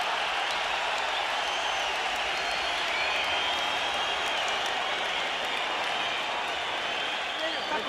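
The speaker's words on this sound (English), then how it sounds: "A fight breaks out in the middle of the boxing match, and the crowd goes nuts." A boxing match crowd erupts during a fight in the ring, with a dense, sustained wash of cheering and applause filling the arena, and voices talking over the roar.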